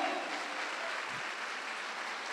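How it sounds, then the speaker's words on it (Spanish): A church congregation applauds, a soft, diffuse wash of clapping that sounds fairly distant and holds evenly through the moment. "Denle un fuerte aplauso al Señor"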